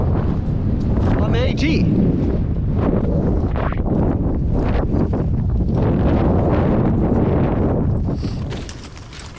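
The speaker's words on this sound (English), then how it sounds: "It's definitely cooling down in this wind, but it's a nice sunny day." Gusty wind buffets the microphone on a sunny stretch of the Appalachian Trail, a steady broadband rush that fills the whole clip, with a hiker speaking over it before it eases near the end.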